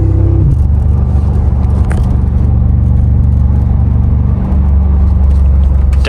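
A 2021 Mercedes-AMG G63 4Matic SUV's engine drones as it drives, a loud, steady low rumble with road noise that holds throughout, with no talking over it.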